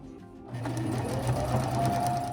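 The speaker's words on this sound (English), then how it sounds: "you'll start your 3-step zigzag about 2 inches away from the end of this" A sewing machine runs a 3-step zigzag stitch while making a diaper cover. It starts after a brief quiet moment and then hums steadily and closely, with no talking.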